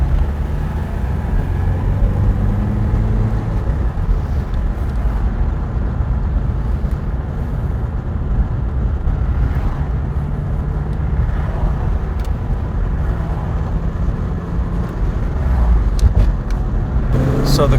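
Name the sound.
Porsche 944 Turbo accelerating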